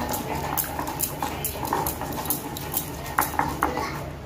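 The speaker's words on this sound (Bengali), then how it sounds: "এই পাতাগুলো কটা বাটলেই হয়ে যাবে" Thankuni (pennywort) leaves being ground on a grinding stone for a bhorta mash, producing close, rhythmic scraping and knocking strokes repeating at a steady pace without talk.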